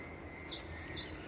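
A wild bird calls at evening in Taiwan, giving three short, faint high chirps spaced about a quarter second apart over a steady low background hum.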